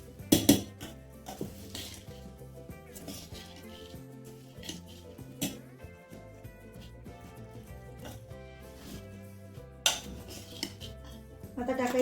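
Spoon mixing tomato into street-style oli bhel in a bowl, giving repeated clinks and scrapes against the dish, with music playing underneath throughout.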